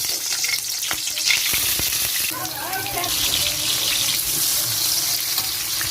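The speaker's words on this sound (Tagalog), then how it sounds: "Prito na tayo" Pork sizzles and crackles steadily in a hot pan, with a few sharp clinks of utensils near the start.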